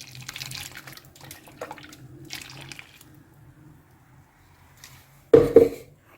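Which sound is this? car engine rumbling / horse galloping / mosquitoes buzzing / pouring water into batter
pouring water into batter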